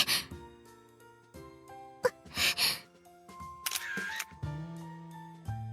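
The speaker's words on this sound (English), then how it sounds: "The sound of the shutter clicks." A camera shutter in a visual novel video game clicks sharply a few times, short crisp snaps set against soft game music and chimes.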